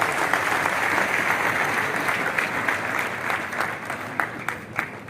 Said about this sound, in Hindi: बहुत ही सुंदर हौसला बढ़ाया अपनी तालियों के माध्यम